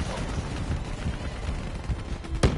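Gunfire rattles through a Black Ops 3 co-op campaign battle against a VTOL and APC, dense continuous shooting with a sharp louder blast near the end.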